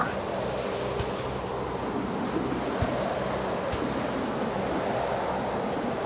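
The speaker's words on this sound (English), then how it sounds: "We're still in the storm." Storm wind and crashing waves in the video game The Alters make a steady, dense roar with occasional faint thumps, continuous and fairly distant, with no voices over it.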